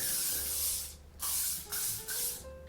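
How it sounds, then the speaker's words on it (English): Hairspray from an aerosol can misted over curled red hair in three or four separate hissing bursts, close and fairly loud, with short pauses between them and no talking. "I'm gonna give these a good spray with Hairspray."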